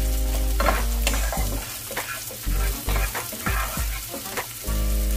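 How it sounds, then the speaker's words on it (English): Onion stir-fried in a pan until caramelized for crab fat fried rice: a loud, close, steady sizzle broken by repeated scraping stirs, with no talking. "Pwede natin hanggang sa medyo mag-caramelize yung onion."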